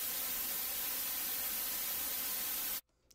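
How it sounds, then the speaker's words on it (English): A steady white noise tone from a software synth in Cakewalk, holding one MIDI note, plays loud and unbroken as an even hiss, then cuts off abruptly near the end. "it's a beautiful white noise tone"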